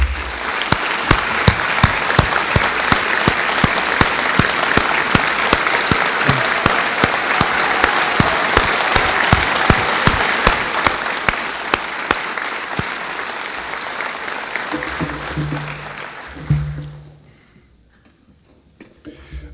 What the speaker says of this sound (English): Would you please stand for one more round of applause from our student body?